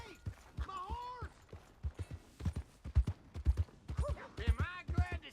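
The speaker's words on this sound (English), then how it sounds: "Hey! My horse!" Rhythmic clip-clop of horse hooves in Red Dead Redemption 2, close and moderately loud, with a person speaking over the steady gait.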